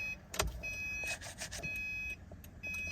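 A 2010 third-generation Subaru Forester switched on after its battery is reinstalled, giving close electronic chimes and beeps with a few clicks and short bursts of noise over a steady hum.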